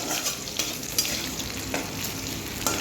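Onions frying in a pan for a Bengali beet paste dish give a continuous close sizzle, with a few sharp scrape-and-stir clicks of a spoon at irregular intervals and no talk.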